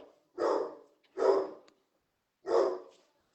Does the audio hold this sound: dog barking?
yes